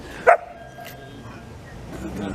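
A dog being walked along a city street in Montreal's Hochelaga district gives one short yip or bark at a distance, then faint street ambience continues.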